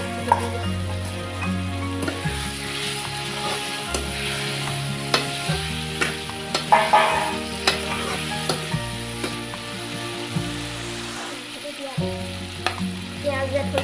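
Goat meat frying in a pan with tomato, a steady sizzle with scraping and stirring clatter throughout, plus a low droning hum in the background.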